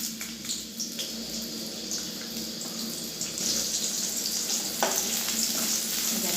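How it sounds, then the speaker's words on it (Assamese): Chopped onions sizzle and crackle steadily as they fry in hot oil for a chicken dish, a dense close hiss with occasional stirring clinks and scrapes, no voices. "গৰম হৈ গ'ল, এইখিনি কাটি থোৱা পিঁয়াজখিনি দি দিছোঁ।"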